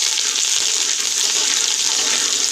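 Curry leaves frying in hot oil for poha chivada give a steady, loud, bright sizzle that runs without a break, with no voices.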